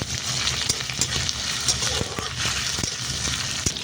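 Chopped ginger and green chillies fry in a pan with a pinch of asafoetida, making a dense, steady sizzle and crackle close up, with occasional stirring clatter throughout.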